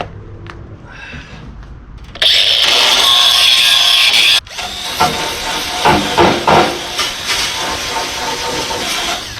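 A welder sparks up on a Can-Am Outlander 450 XMR ATV frame, giving a loud, steady hiss that cuts off, then gives way to crackling, uneven sputtering bursts from nearby.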